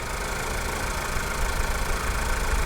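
A Ford car engine idles at a salvage auction yard, a smooth, even, continuous hum at a low, steady level with no talking.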